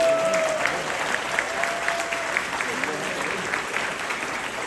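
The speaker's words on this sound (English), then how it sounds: "please join me in giving them a well-deserved round of applause" An audience applauds at a charity fundraising gala for a Khmer health association in America, steady dense clapping filling the room for several seconds while a voice talks faintly underneath.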